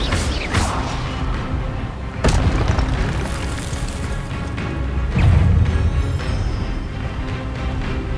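Spell impacts from the video game Hogwarts Legacy: three heavy booming blasts near 0.5, 2.2 and 5.2 seconds, each with a sharp whooshing crack, over a steady rumbling bed of game noise.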